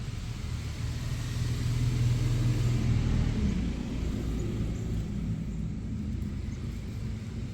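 Car traffic passes along a road just outside a garden fence, a steady low rumble of engines and tires that swells as vehicles go by, moderately loud and continuous without talk.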